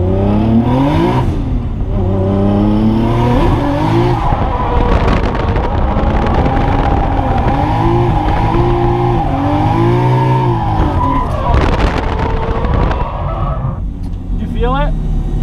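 A 550 hp Nissan Skyline drift car sweeps through smooth, long corners, its engine droning loud and close with a rising and falling pitch, while voices talk over it almost throughout.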